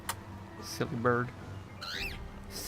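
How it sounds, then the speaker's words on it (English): A bird squawking in Zelda: Breath of the Wild near a waterfall, with a few short nasal chirps and squawks that rise and fall, heard close over faint background ambience. "Silly bird."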